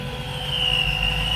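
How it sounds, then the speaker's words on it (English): Supercharger blower on a car engine at a car meet, giving a steady high whine over a low engine rumble, close and continuous with no talking. "Bro, listen to that blower."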